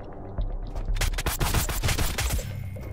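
Rifle gunfire in Sunkenland, a rapid burst of sharp shots that starts after a brief quiet lead-in and runs for about two seconds, loud and close, alone without talk.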